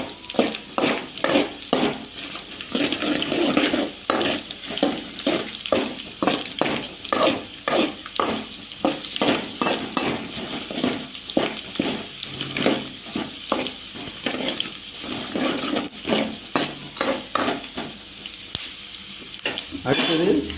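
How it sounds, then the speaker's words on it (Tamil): Lemon rice sautéing in a pan, with steady sizzling and frying under repeated rhythmic scrapes and stirs of a utensil against the metal, close and continuous with no talking. "வதக்கிட்டு நல்லா வேக விடணும்"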